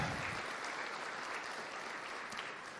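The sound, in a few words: congregation applauding in church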